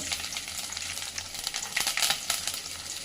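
Garlic pieces frying in a little leftover oil in a pan after cooking gobi 65, with a steady close crackling sizzle and a few louder spits and bursts near the end, no voices.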